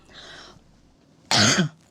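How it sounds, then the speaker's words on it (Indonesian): A single burst of coughing from a person in a live religious gathering, loud and close, after a quieter stretch of faint background murmur. "Saking semangatnya batuk-batuk teman-teman"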